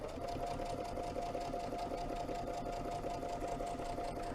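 A sewing machine runs continuously while top stitching around a quilted fill-in-the-blank sewing club project, a steady, close, even mechanical whir with a rapid needle rhythm and no talking.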